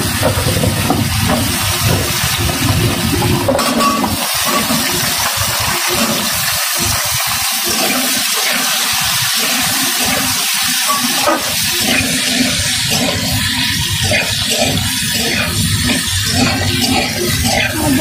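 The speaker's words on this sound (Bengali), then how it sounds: "ওই তেলের মধ্যে কালো জিরের ফোড়ন দিলাম, দিয়ে আলুগুলো" Potatoes frying in hot oil tempered with nigella seeds, a loud continuous sizzle and hiss that fills the whole stretch without letting up.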